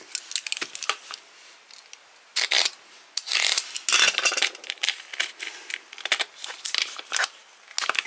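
Cardboard tear strips ripped open on a Hallmark Star Wars mystery ornament box, giving a close run of crinkling, scraping paper rips in irregular bursts with short pauses between them.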